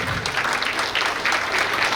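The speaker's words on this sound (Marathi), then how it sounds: "मॅडम एकदा जागेवरच उभे, जोरदार टाळ्या झाल्या पाहिजे यांच्याकडे" Loud, dense applause from a crowd honouring committee members at a Ganapati festival celebration fills the moment, steady clapping close by.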